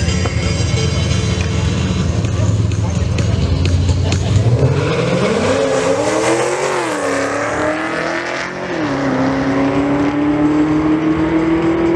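Camaro ZL1 and BMW X5M launching side by side at a drag strip event, engines roaring loudly and rising in pitch as they accelerate away, the sound shifting and holding strong throughout.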